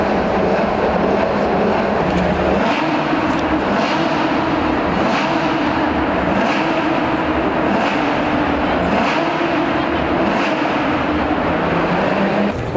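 Porsche 2-litre prototype racing engine started and running, a loud steady mechanical drone with a sustained low rumble and slight fluctuations in revs, close and continuous throughout with no talk.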